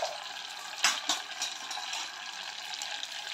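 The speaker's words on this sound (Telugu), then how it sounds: "అది కొంచెం ఆవాలు చిటపటాడేసిన తర్వాత" Mustard seeds crackle and pop in hot oil as a tempering for tomato pickle, a faint continuous sizzle with a few sharper pops and no talking.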